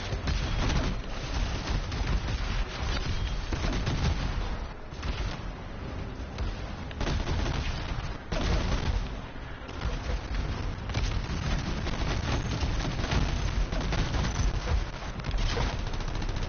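Grenade launcher firing in Anthem, a masterwork weapon unleashing a steady barrage of booming blasts and explosions that run continuously and loudly, dense and uninterrupted throughout.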